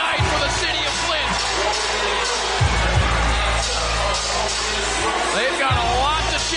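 A boxing arena crowd in Flint roars steadily after a women's title fight, with dense continuous cheering and whoops under a commentator talking throughout.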